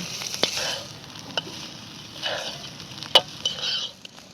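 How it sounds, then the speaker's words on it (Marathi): Rice roasting until crisp in a hot pan for kheer, a soft steady sizzle broken by several sharp scrapes and clinks of stirring, close and fairly quiet with no talking. "आता चांगले मी खरपूस तांदूळ बाजून घेतलं आणि काढून घेते"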